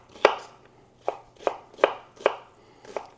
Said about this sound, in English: And this onion will have same cut. And we'll go right down.